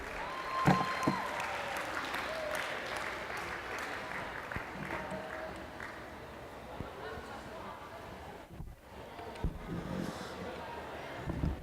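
Audience applause at a school sports banquet, a sustained wash of clapping from a room full of people, steady and fairly loud for most of the stretch with a brief dip near the end.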